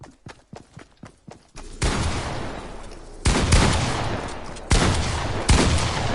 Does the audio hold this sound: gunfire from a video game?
yes